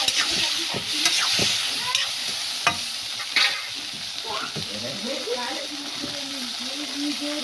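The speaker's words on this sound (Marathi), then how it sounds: "याला छान असे परतून घ्यायचे आहे आपल्याला तेलामध्ये" Food frying in hot oil, a loud close sizzle with sharp spatter pops and stirring clinks, a voice speaking over it in the second half.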